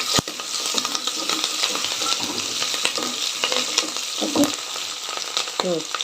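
Ivy gourd curry with curry leaves, green chillies and turmeric fries in a pan with a continuous close sizzle, broken by intermittent scraping and clinking as a spatula stirs it.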